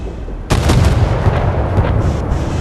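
Warship artillery in a naval combat video game fires one loud, sudden boom that cuts through a steady background rumble, then rolls on as a sustained roar and decays over a couple of seconds, with no talking.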